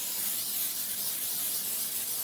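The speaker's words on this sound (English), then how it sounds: "we're going to spray our cookie sheet here" Steady aerosol cooking spray hisses onto a cookie sheet, a continuous close hiss lasting a couple of seconds with no talking.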